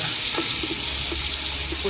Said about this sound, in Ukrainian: Смажуємо.